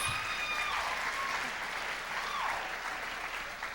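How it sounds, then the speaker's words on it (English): An audience applauds a pianist, a Burroughs High School graduate, at the Miss California USA 1997 pageant, the clapping steady and moderately distant, with a faint tone or two ringing over it. "Please go ahead and applause"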